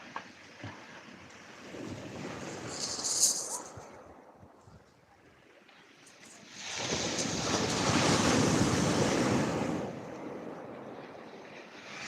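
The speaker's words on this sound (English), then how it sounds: "I've stopped talking for a minute just so you can hear them waves." Sea waves wash in on the beach at Lyme Regis, a softer swell early on, then a louder, broad rush of surf building near the end, with some wind across the microphone.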